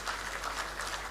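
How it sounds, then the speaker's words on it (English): Audience at an alumni homecoming dinner for a university clapping for themselves, a brief, even patter of many hands heard from a distance, fairly soft. "So clap for yourselves."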